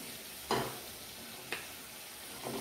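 Potatoes fry in hot oil with a soft steady sizzle, broken by a few sharp spatters or stirs about a second apart, close and quiet with no talk.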